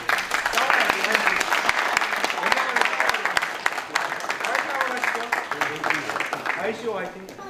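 Sustained, dense applause from a seated audience at a forum launching ICO self-regulation guidelines, loud and steady for the whole stretch with scattered voices mixed in.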